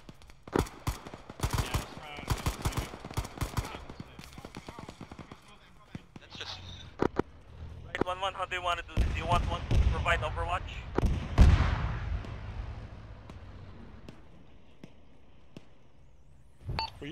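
Video game gunfire crackles in rapid bursts and repeated shots, with a heavier rocket blast and rumbling explosions midway, loud and close, while players talk over the combat.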